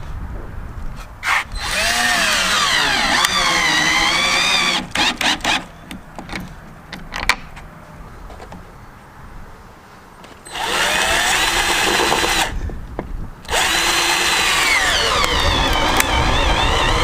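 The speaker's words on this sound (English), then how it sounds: "now I'm gonna drill these in, the 2 hardware pieces" Power drill driving two hardware pieces into a wooden farmhouse welcome sign, several loud whirring bursts of varying length separated by short pauses and clicks.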